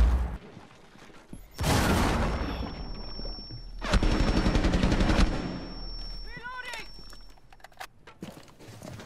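Video game gunfire: two loud sustained bursts of rapid automatic shots, each lasting a second or more, followed by quieter scattered single cracks and mechanical clicks, with a steady tone ringing underneath.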